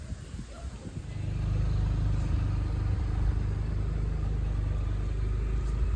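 A big Pontiac American car engine idles nearby at an outdoor steam rally, a steady low rumble that settles in after a second and holds evenly throughout.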